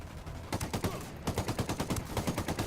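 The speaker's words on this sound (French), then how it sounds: "Voilà, ça tire de partout." Rapid automatic gunfire in Ghost Recon Wildlands, two quick volleys of sharp, fairly distant shots in a steady rhythm over a low background rumble, without speech.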